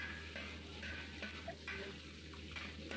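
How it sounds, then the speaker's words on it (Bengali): Prawns fry lightly in hot oil with a soft, low sizzle, while utensils scrape and stir through it in short bursts; the whole is quiet and close, with no talking. "আমি চিংড়ি মাছগুলো হালকা ভেজে নিচ্ছি"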